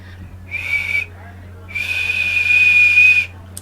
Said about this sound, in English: But when I actually want to whistle, I have to do this.